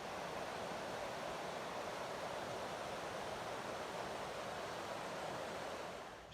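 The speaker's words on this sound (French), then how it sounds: "t'entends peut-être la rivière" A river flows steadily on a hillside slope, a broad, continuous rush of water that stays even and fairly close for the whole stretch, with no voices over it.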